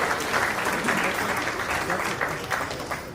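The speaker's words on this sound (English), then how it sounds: "So another round of applause for that to Aman and their family for putting this together as fast as they have." Steady applause from a wedding reception audience honoring the families, with dense clapping and crowd murmur sustained throughout, some voices mixed in.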